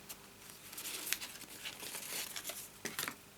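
Cardstock is folded as a belly band around a box card, producing quiet close-up crinkles, rustles and scrapes of paper handling in irregular bursts.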